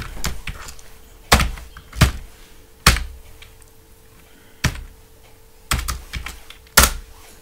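Sparse, clicky keystrokes on a computer keyboard, a few isolated taps and short bursts of several keys spread across the stretch, close and moderately loud with quiet gaps between.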